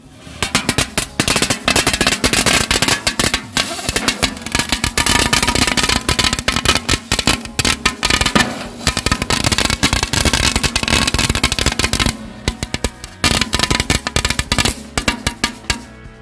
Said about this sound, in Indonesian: kita nyalakan mercon gangsing di dalam kaleng